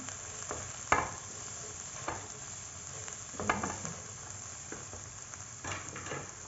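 Dry coriander filling stirred in a frying pan, a low steady sizzle broken by several soft scraping strokes of a utensil at irregular intervals.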